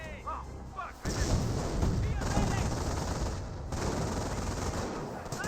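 Company of Heroes 1 battle sound: a machine gun emplacement keeps up sustained, dense rattling fire. It layers over continuous rumbling battle noise at a steady, loud level.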